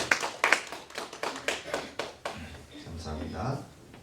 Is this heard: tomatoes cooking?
no